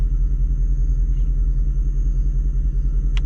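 A car engine with freshly installed spark plugs runs loud and close in a deep, steady throbbing rumble, a pulsing idle-like drone without a clear rise in revs and no talking.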